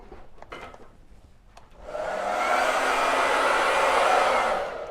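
A hair dryer drying a decorated pumpkin switches on after a few faint scattered knocks, then blows as a steady, loud, broadband whoosh that holds for about three seconds before easing slightly at the end.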